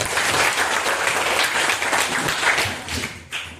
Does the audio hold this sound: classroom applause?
yes